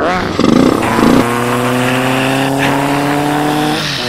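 A voice imitates the revving engine of a Captain America toy motorcycle ridden by a Black Panther action figure, with a loud, sustained vroom that rises and holds steady.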